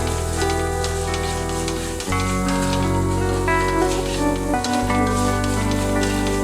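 Butter and maida (flour) cook over a low flame in a steady, soft sizzle that runs continuously beneath loud background music.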